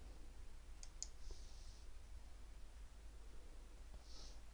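A few faint keyboard clicks from typing on a computer keyboard, set against a steady low hum, with a short cluster of keystrokes near the start and no talking.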